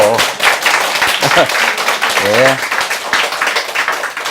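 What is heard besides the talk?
audience clapping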